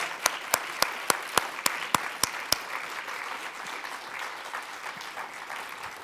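Audience at the Lorenzo Natali Media Prize award ceremony applauds a winner, a broad sustained wash of many hands with a few sharp, regular claps close by early on before settling into steady crowd applause.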